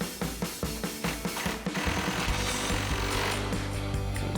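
Two lower 8mm screws being driven in with a power tool during an LED projector headlight install on a Dodge Charger, about a dozen rapid rhythmic impact bursts followed by a continuous close whirring drive.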